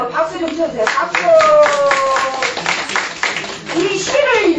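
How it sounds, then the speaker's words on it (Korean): An audience at a community-center laughter and brain-health class claps together in quick rhythmic bursts, loud and close, mixed with lively voices talking over the clapping. "다시 한번 박수 좀 쳐주세요. 박수!"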